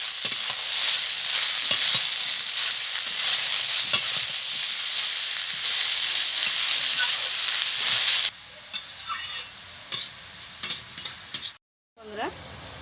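Ash gourd and potatoes fry in a pan with a loud continuous sizzle and stirring scrapes, then the frying cuts out into short bursts of sizzle and clatter before a brief silence.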